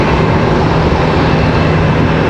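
American Airlines jet departing Charlotte Douglas airport, a loud, steady broadband engine roar filling the whole stretch with no voices over it.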